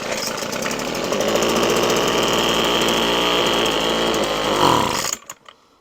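Weed Eater FB25 25cc gas leaf blower engine on full choke, a loud steady two-stroke buzz running for about five seconds before sputtering and cutting out abruptly, followed by silence.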